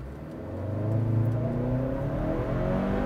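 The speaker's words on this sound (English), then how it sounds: "because it's dual clutch, floor it." A 2022 Hyundai Santa Cruz with a dual-clutch gearbox accelerating hard from a launch, its engine climbing steadily in pitch under a loud, close whir with no talking.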